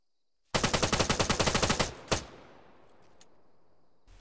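Suppressive machine gun fire in ArmA 3: a rapid burst of about fifteen loud, close shots after a short silence, then a single shot, a fading echo and a couple of faint distant pops.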